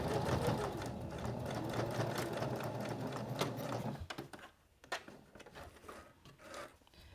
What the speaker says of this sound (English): I'm going to stitch just past this stitch line a little bit and back stitch to lock all that in place